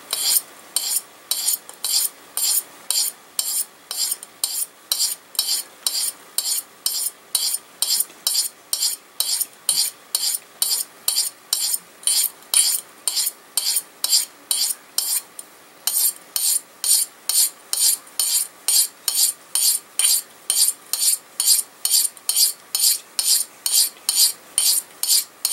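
A knife blade is drawn repeatedly across a glass bottle, giving a steady series of sharp, bright scraping strokes at an even rhythm, close and loud.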